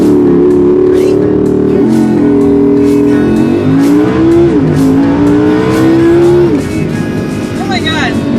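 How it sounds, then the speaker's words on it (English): A Lamborghini launching hard with launch control, engine roaring loud and close as it climbs through rising revs with quick gear-change dips, the pitch stepping up repeatedly before easing off at the end, with people's voices mixed in. "this car has launch control. Okay, so I step on the brakes, I gun the gas."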